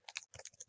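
Brief burst of quiet typing on a computer keyboard, around eight soft, quick keystrokes with a short pause near the middle, close by and alone.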